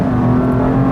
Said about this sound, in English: But another acceleration, because why not?